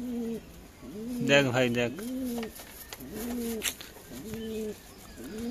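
Pigeons coo in a coop in slow repeated rising-and-falling phrases, close and clear, with a voice speaking briefly over them.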